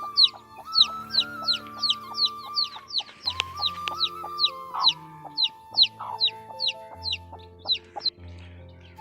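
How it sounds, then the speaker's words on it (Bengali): A hen with her newly hatched chicks in a village: rapid, high peeping from the chicks runs throughout over the hen's lower, drawn-out clucking calls, close by with no talk. "সবাই দেখতে পাচ্ছ মুরগি বাচ্চা করেছে"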